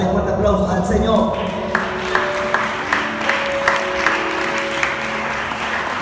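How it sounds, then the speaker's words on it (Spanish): A church congregation at an evangelical service applauds in a sustained wash of clapping with sharper claps standing out, over sustained musical tones and a voice speaking. "Dale fuerte aplauso al Señor"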